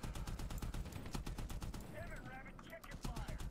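M60 machine gun fire in Medal of Honor (2010) on an Afghan mountaintop, loud rapid bursts of automatic shots in dense rhythmic volleys, with voices calling out partway through.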